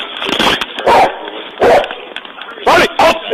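A police dog barks loudly at close range, several sharp, separate barks in quick bursts, mixed with tense background noise during an arrest.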